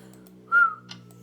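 A person whistles a single short, clear note lasting about a quarter second, close and fairly loud above a quiet background hum.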